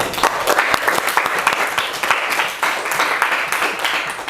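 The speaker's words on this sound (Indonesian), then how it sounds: "Sekali lagi berikan aplaus untuk kita semuanya." A classroom audience of students claps together in sustained applause during a school Islamic studies lesson on Muslim dress, with the clapping close, loud and continuous.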